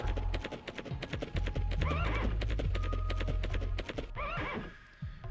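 A horse in The Legend of Dragoon video game lets out a loud, shrill neigh over rapid clip-clopping hooves and driving game music, with a second whinny near the end.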